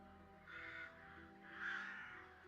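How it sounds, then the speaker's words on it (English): Crows cawing as an ambient sound effect during an online Dungeons & Dragons session set in Barovia, two drawn-out caws about a second apart, moderately loud over a steady low background hum. "you do hear the occasional cawing at crows"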